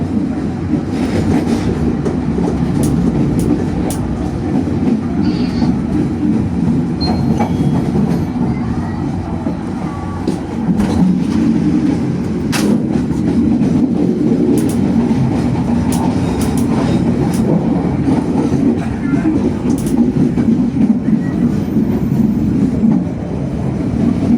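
The Joglosemarkerto passenger train departing Purwokerto, Indonesia, rumbles steadily along the rails from inside a carriage, with a constant low roar and occasional rhythmic clicks and clacks of the wheels.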